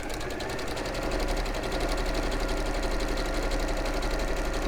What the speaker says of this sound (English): popping that back on the machine, you can either zigzag or straight stitch that